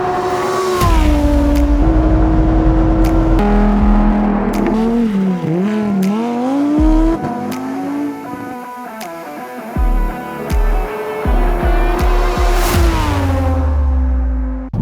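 Lamborghini Huracán EVO exhaust in Corsa mode, loud and close, revving and shifting as the car accelerates, with rising and falling engine pitch, gear-change dips and throttle lifts throughout.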